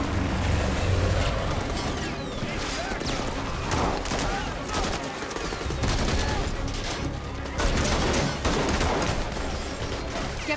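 Heavy gunfire in a Spider-Man video game, a dense barrage of rounds crackling continuously for several seconds with someone talking at times over it.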